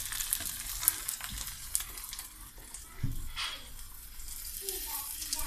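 Cauliflower cheese croquettes browning in hot fat, a steady close sizzle with light bubbling that swells in bursts, a sharp clink early on, and faint voices in the background.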